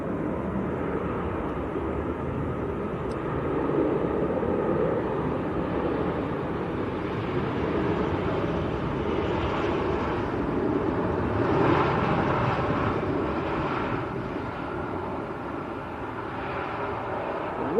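A Ryanair airliner arriving from Pisa at Manchester Airport, a broad distant jet roar that swells slowly and lingers, heard outdoors with wind buffeting the microphone throughout.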